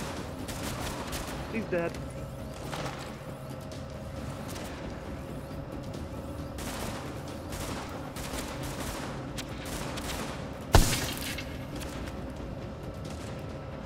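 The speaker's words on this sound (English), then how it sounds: "How am I getting shot from behind?" Gunfire in the video game The Division, with repeated shots under a steady game background, a sharp loud burst near the end, and players talking over the action.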